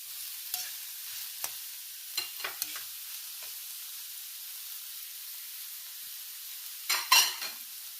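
Ridge gourd being stirred and roasted in a pan: a soft steady sizzle broken by a few scraping stirs and one louder clatter near the end, fairly quiet and without talk.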